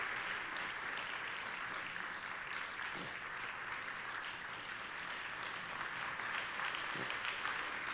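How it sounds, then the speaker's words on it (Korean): A church congregation applauds as deaconesses are called forward, a soft, steady spread of many hands clapping, heard faint and distant throughout. "우리 박수로 앞으로 모시겠습니다"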